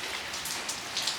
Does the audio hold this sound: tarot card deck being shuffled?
no